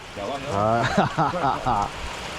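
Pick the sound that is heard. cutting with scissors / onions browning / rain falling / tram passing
rain falling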